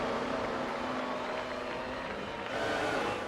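Renault Formula 1 cars racing in the F1 2002 game give off a constant high droning engine whine, with the pitch and intensity lifting near the end.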